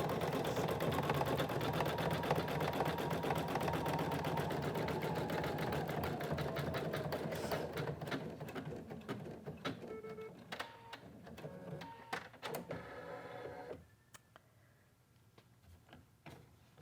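Embroidery machine stitching a satin stitch applique, a fast, steady mechanical chatter of needle strikes close by that thins into sparser clicks and fades toward the end.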